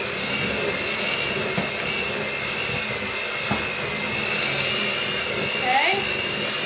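A KitchenAid hand mixer whipping cheesecake filling, a steady continuous motor whir running throughout at even level, with a voice faintly audible beneath it.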